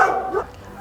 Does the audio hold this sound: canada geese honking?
no